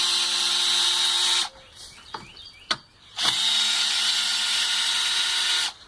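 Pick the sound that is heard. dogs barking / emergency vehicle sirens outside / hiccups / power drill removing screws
power drill removing screws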